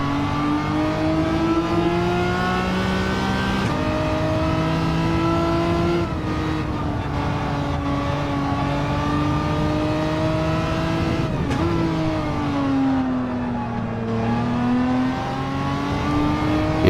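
Race car engine in a racing video game, revving continuously with rising and falling pitch as it shifts through gears and takes corners, loud and close with no talking.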